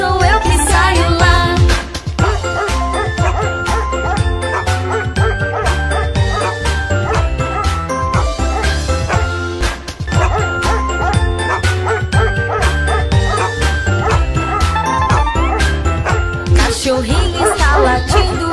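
A little dog's barking in a Brazilian Portuguese children's nursery song, with yips and bow-wows woven into a loud, busy musical backing that runs continuously through the passage.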